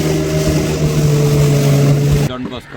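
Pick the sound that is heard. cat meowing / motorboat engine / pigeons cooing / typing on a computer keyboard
motorboat engine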